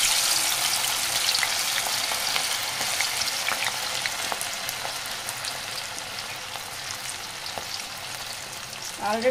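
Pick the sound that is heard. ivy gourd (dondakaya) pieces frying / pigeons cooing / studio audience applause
ivy gourd (dondakaya) pieces frying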